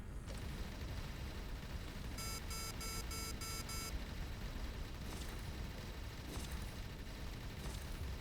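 A rapid electronic alarm in the space game Avorion, warning of incoming torpedoes: a burst of repeated high beeps over a dense, steady bed of spaceship combat noise and rumble, with no voice.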